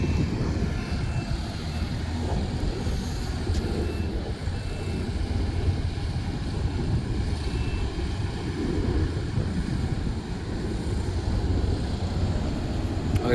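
A jet airplane taking off near Paris, heard as a steady, loud broadband engine roar that holds throughout, with a rumbling low end and a faint whining tone on top.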